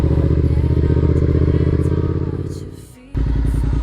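A motorcycle engine runs close up with a steady throbbing idle that softens briefly near the end, then surges abruptly as the throttle is twisted.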